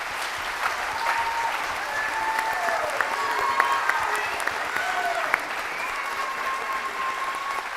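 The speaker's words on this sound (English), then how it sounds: "Can we have a round of applause for all of our candidates?" Steady audience applause at a 2023 Rexburg city candidate forum, a dense wash of many hands clapping that holds evenly for several seconds, with scattered louder claps and faint cheers mixed in.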